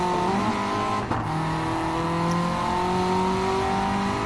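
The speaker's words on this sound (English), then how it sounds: "It's got such a nice sound on this little engine." A small car's engine revs steadily in a racing video game at Trial Mountain, a loud continuous drone with shifting pitch and a brief dip near the one-second mark.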